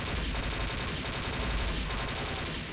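Shotgun fire in the online shooter XSHOT, a bomb-mode Next Gen shotgun, sounding as a dense, continuous burst of loud booming shots that runs the full length without pause and with no talk.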